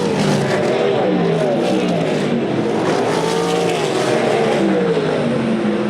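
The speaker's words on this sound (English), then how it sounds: "Schumann and Cottle racing awfully hard off of turn 2." USAC Silver Crown race cars battle on a dirt track at DuQuoin, Illinois, engines howling and rising and falling in pitch as several cars pass close together, loud and continuous.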